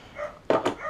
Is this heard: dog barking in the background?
yes